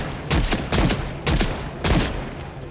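Gunfire in the zombie survival game Project Zomboid booms in four heavy, spaced shots, each with a loud low thump and a trailing echo.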